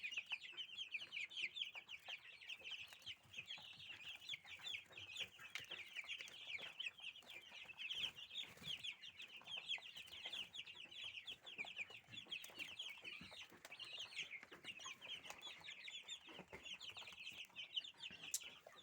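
A flock of young Cobb 500 broiler chicks cluck and peep continuously while feeding and drinking, a steady dense chatter of many birds close by, with no talk.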